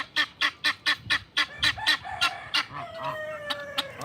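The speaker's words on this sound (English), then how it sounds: "So that's what a male guinea fowl sounds like." A loud, repetitive two-note honking call from a male guinea fowl close by, pulsing steadily about three times a second, with fainter calls and chirps behind.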